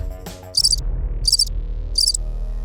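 Three short, high-pitched chirping bursts of a grasshopper, evenly spaced about every 0.7 seconds, standing out clearly against a low background hum.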